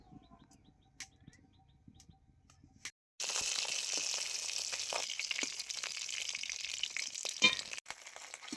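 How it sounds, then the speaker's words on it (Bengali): Mustard oil heats in a kadai, breaking after a quiet start into a steady, fairly loud frying sizzle that carries on to near the end, with a few small clinks mixed in. "দিয়ে দিচ্ছি কড়াইয়ের মধ্যে আবারও সরষের তেল"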